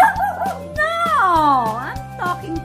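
A dog yips and whines in high, sliding cries, with a few short barks mixed in, close by and fairly loud over a steady low hum.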